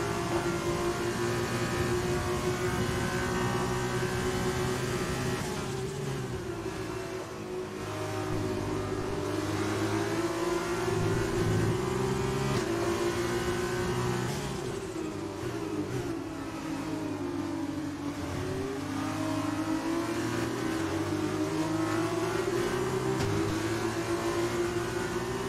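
A race car in the F1 2020 game at Silverstone drones loudly and continuously for the whole stretch, its engine revs rising and dipping with gear changes, with no talk over it.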